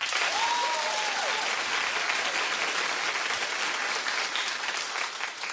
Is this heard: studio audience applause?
yes